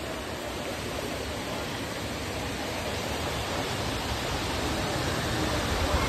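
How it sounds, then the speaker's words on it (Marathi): Savatkada waterfall in Ratnagiri roars steadily and loudly as a dense, unbroken rush of falling water with no pauses or voices. "वॉटरफॉल दाखवतो सवतकडा."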